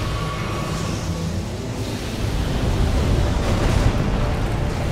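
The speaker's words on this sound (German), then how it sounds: "Schlange mit großen Explosionen" Large explosions from a snake boss in the Elden Ring Shadow of the Erdtree DLC, heard as a dense, continuous roaring rumble that swells louder partway through and stays heavy to the end.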